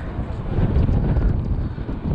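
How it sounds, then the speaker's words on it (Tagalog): Strong wind buffets the microphone during a late-morning bicycle ride, a continuous low roaring rumble with no voices, loud and close throughout. "Grabe ang hangin."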